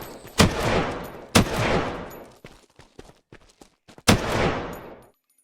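Machine gun fire in the video game Unturned rings out in three loud bursts, each a sharp crack followed by a decaying roar, with scattered faint clicks and pops between them.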